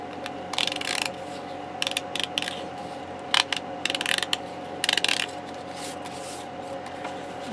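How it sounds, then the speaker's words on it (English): A die cutting machine rolls a decorative strip die through its gears, giving a loud, steady close-up mechanical grinding with ratcheting clicks and bursts of sharper rattling and scraping throughout, with no talk. "I'm going to run it through the die cutting machine"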